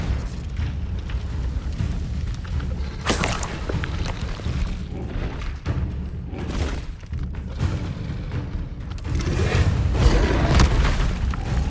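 Repeated Confringo fire-spell blasts in Hogwarts Legacy, booming explosions and thuds one after another over a dense rumbling game soundscape, with the loudest bursts building toward the end.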